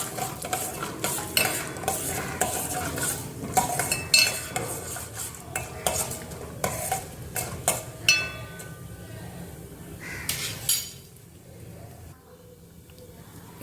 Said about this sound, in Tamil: காஞ்ச மிளகாய் ஆட் பண்ணி லைட்டாக ஃப்ரை பண்ணதுக்கப்புறம் ஆனியன் ஆட் பண்ணிக்கலாம்.